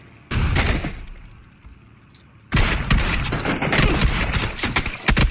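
Rapid gunfire erupts in PUBG, a short burst of shots, a brief pause, then a dense, loud volley of repeated shots and booms continuing to the end.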